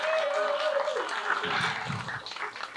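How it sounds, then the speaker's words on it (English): Audience clapping at a comedy bootcamp graduation show, a steady crowd wash of applause lasting throughout, with a brief voice or whistle tone early on. "Give a round of applause for Monica."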